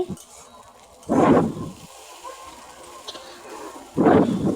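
Potatoes frying in oil in a kadai for aloo bharta are stirred slowly with a utensil. Two short, loud scraping, sizzling bursts stand out over a faint background hiss.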